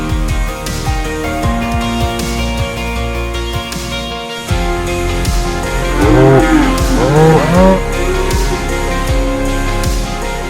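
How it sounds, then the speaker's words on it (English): Cows lowing in a rural pasture near Mud Bay outside Olympia, long drawn-out moos that rise and fall, heard loud and close over a dense, continuous background. "we were back on the outskirts of pastures, with cows grazing peacefully"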